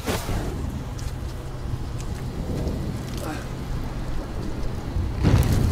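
Artificial rain from a rain machine on a TV studio set, a steady broadband hiss of falling water that swells louder near the end, with people talking faintly over it.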